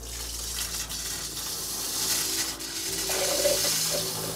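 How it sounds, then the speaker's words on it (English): A steady hiss of antifreeze spraying and gushing from a spray wand down a gray water drain, fairly quiet and continuous. "We will spray the antifreeze from the super sudsor down the gray water drain."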